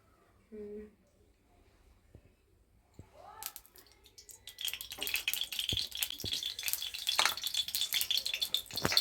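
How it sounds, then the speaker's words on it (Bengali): Potatoes fry in hot oil in a village-style kitchen. A crackling sizzle builds partway through and then holds steady and close, with a few clinks and faint movement sounds before it. "আলুগুলো একটু লাল লাল করে ভেজে নিই।"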